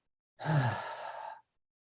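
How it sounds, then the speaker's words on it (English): A single long breath drawn in through the nose during a relaxed guided breathing exercise, close and soft, with an airy sighing quality lasting about a second. "Start breathing in your nose. Nice inhale."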